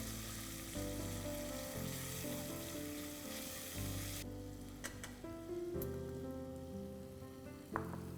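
Onions with turmeric and ginger garlic paste sauté in a pan for achari gosht, giving a steady, close sizzle with a few scraping stirs, under soft background music.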